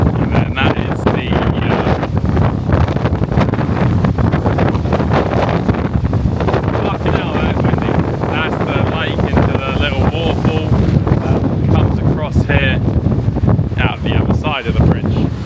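Strong gusts buffet an outdoor microphone beside a bridge on a rainy, foggy drive around the Ring of Kerry, producing loud, constant rumbling wind noise with a faint voice buried underneath.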